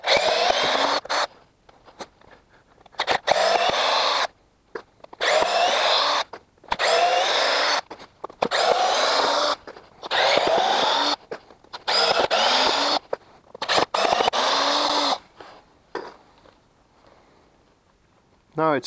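A Hitachi DV18DCL2 cordless driver drill bores into a block of hardwood in repeated loud bursts of whining motor and grinding bit, each a second or two long, separated by short pauses.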